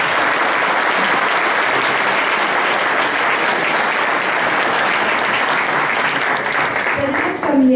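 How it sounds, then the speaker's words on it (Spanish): An audience at a psychology symposium applauds steadily for several seconds, dense clapping filling the space before tapering at the end. "Un aplauso, por favor, a la doctora."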